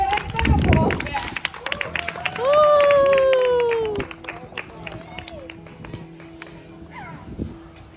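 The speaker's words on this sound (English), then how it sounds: "so can we get a big applause again?" A crowd at the Legoland driving school gives a short burst of clapping and cheering, with a loud whistle-like squeal in the middle, then fades into background chatter and scattered voices.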